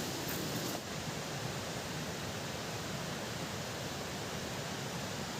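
A steady, unbroken roar of a waterfall in the misty Sahyadri mountains fills the air, heard from some distance with no voices.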